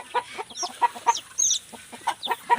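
A mother hen clucks in short, repeated bursts with a few higher squawks mixed in, close and fairly loud, alone without talk.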